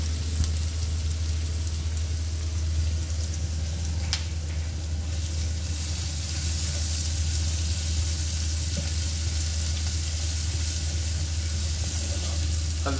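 Onion sizzles steadily in a hot pan with turmeric added for a poppy seed curry, a continuous close frying hiss with occasional stirring scrapes and a steady low hum beneath.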